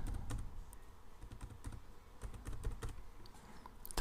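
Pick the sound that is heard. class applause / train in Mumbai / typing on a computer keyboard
typing on a computer keyboard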